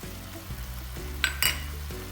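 Ginger garlic paste frying with onions in a pan for soya bean curry, a soft sizzle under repeated stirring strokes, with two sharp clinks of a utensil on the pan near the middle.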